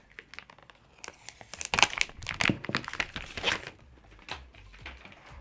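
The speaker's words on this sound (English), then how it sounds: "After that satisfying peeling off the packaging," Plastic film being peeled off an iPhone SE (2020) box, a close run of crinkling and tearing crackles that swells in the middle and then tapers into scattered rustles.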